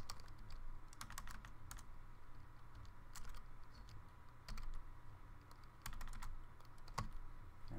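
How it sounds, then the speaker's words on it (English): Rapid typing on a computer keyboard, a steady stream of close, crisp key clicks with a few louder strokes, set against a low background hum with no one talking. "I'm typing too quickly."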